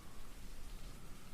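Steady rain falls in a dense, even hiss of drops with a soft low rumble underneath, close and continuous with no voices.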